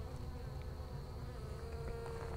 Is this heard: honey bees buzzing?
yes